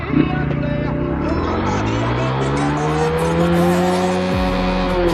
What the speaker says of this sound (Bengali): এবার ফার্স্ট গিয়ার থেকে একদম লাস্ট গিয়ার পর্যন্ত তুলবো, কত টপ এন্ড ওটা দেখবো